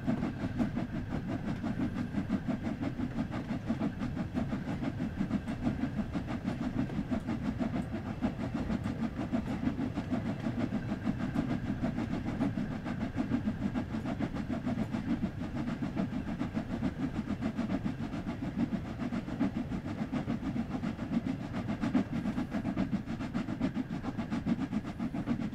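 The steam locomotive Silver Jubilee runs in the Train Sim World 2 video game, a continuous low rumbling rail roll with steady rhythmic clatter throughout, moderately loud and unbroken, with no talk over it.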